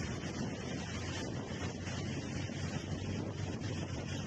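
Loud, steady roar of high cyclone waves and storm surge during Cyclone Michaung, a dense, unbroken wash of churning water and gusting wind across the microphone, with no voices.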